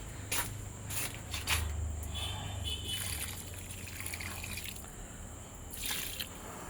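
Water trickles and drips onto soil where bush lablab bean seeds have just been planted, soft splashes and dribbles close by with faint background noise.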